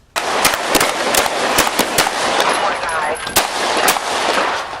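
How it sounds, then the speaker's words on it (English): Rapid gunfire in a police shootout with a suspect in an SUV, loud sharp cracks in quick irregular bursts over a steady noisy background, shots continuing throughout. "Officers outside the SUV fired into the back seat. Jordan fired back, his weapon still in hand."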